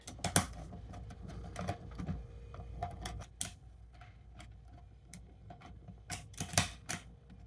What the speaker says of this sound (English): go ahead and get your security plate and install it with the 2 screws that are included